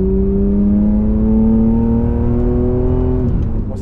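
BMW 850 CI V12 with a stainless exhaust line driving on an open road, a loud, smooth engine note rising steadily in pitch under acceleration before easing off near the end, no talking.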